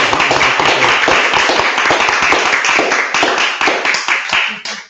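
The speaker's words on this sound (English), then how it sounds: "let's give an applause," Loud applause from an audience, dense clapping that holds steady and then tapers off at the end.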